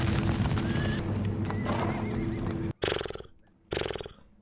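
A person mimics a horse's neigh with their voice, a loud, whinnying burst followed by a second shorter call after a brief pause, heard close up.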